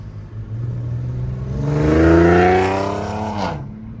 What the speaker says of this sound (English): Yo, that car is too loud.